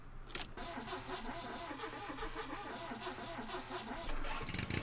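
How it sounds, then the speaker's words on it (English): An old car in the Jalopy driving game is cranked and fires up, a sputtering starter whir settling into a steady rattling engine rumble that swells louder near the end. "Start the car back up again."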